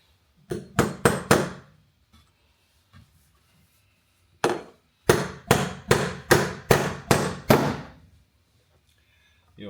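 Sharp hammer blows driving in, a quick burst of three strikes, a lone soft tap, then a steady run of about seven loud, evenly spaced hits, close and without talk.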